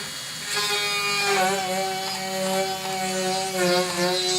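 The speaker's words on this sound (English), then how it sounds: "I'm drilling a bigger hole" A steady electric drill whines continuously while enlarging a hole in an Aleutian bentwood hat, its pitch wavering slightly as it bites into material, loud and close with no talking.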